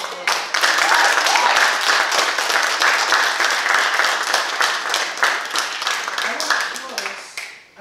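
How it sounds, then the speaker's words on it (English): An audience bursts into sustained applause, dense clapping that swells quickly, holds strong, then thins out into scattered claps near the end. "So let's give them a round of applause."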